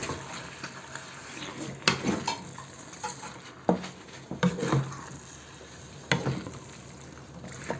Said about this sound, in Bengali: এখন এই মশলার সাথে মাছটাকে আমি কষিয়ে নেব হালকা একটু নাড়া দিয়ে দিচ্ছি